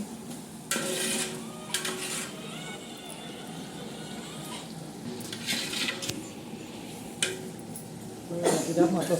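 Vegetables cook in a pan on a stove, with scattered metal clinks and scraping of stirring against the pan over a faint sizzle, while people talk nearby.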